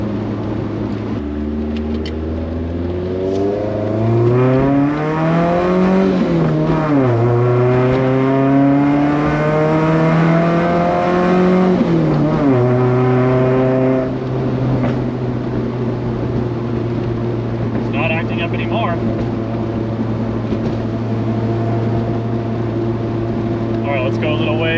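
A Fiat X1/9 with fuel system trouble drives along, its engine droning loud and near as revs rise and fall through gear changes and a U-turn, steadying into a constant hum; a voice talks briefly.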